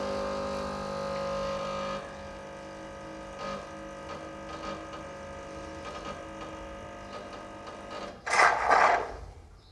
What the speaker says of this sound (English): it's backwashing up through the head, keeping it all clean, removing any built up oils